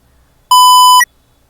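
A single sharp electronic beep from an Arduino buzzer, loud and pure-toned, lasting about half a second in otherwise near silence.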